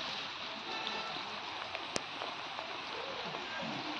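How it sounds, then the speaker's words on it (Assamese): Steady rain falling outdoors while betel nuts are gathered, a continuous broadband hiss with faint scattered drops and a brief sharp tap near the middle, no clear talk. "বৰষুণ দিছে ইমানকে"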